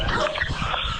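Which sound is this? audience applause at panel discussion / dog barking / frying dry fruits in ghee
dog barking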